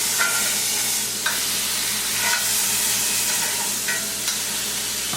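A rack of lamb sears skin side down in a pan with a steady, bright sizzle, with a few soft scrapes and bumps as the meat is moved and flipped.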